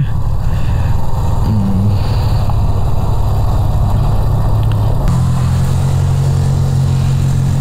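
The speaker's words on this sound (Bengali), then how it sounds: "এটা ইঞ্জিন ব্রেক দিয়ে নামতে হবে, হাতে পায়ের ব্রেক চেপে ধরে।" Vehicle engine braking down a steep downhill road, a loud, steady engine drone that shifts to a higher, firmer pitch partway through, close and alone.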